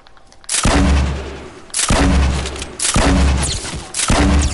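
Grenade launcher firing in a video game: four loud, booming shots land at roughly one-second intervals, each with a deep thump and short rumbling tail, close and uncovered by talk.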